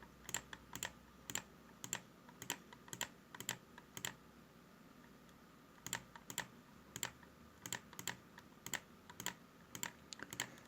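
Keys tapped on a computer keyboard while an email address is entered on a registration page, with irregular bursts of crisp clicks and short pauses, close and fairly quiet, with no one speaking.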